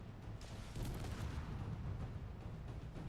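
A rocket striking heavy armor blocks in Space Engineers, a faint, low rumbling blast that swells and then lingers as a muffled, noisy roar, heard alone.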